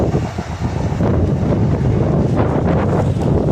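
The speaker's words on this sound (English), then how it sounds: "That is very windy." Loud wind sweeps across a Cardiff train station platform, buffeting the microphone in a continuous roaring rush with gusty surges and no one speaking.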